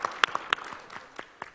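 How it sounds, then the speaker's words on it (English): A short burst of scattered clapping from a conference audience in the Capitol, a few sharp claps standing out before it thins. "That deserves a round of applause"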